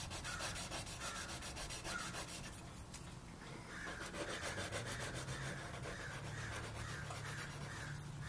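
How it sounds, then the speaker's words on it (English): Fine sandpaper rubbing on the wood of a model ship, a close rhythmic back-and-forth scratch repeating about twice a second, steady and fairly quiet, with no voices. "I'll just polish it up a little bit now with the fine"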